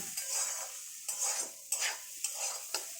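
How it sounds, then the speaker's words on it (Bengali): Papaya and potato pieces fry in a little oil in a pan, a soft hiss of sizzling broken by four or five rhythmic scrapes of a spatula stirring, close and without talk. "তুলে আমি দেখি পেঁপে ভাজার কত দূর হয়েছে"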